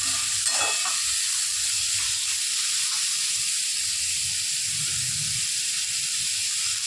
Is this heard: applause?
no